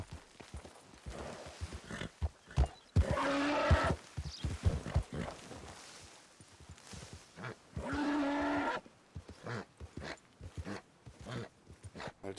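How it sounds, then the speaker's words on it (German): A horse in the video game Red Dead Redemption 2 neighs twice between heavy thuds and grunting while bucking, with rough, irregular stamping sounds in between. "Du hast das Pferd jetzt zugeritten, aber es hat immer noch einige Eigenschaften eines Wildpferdes."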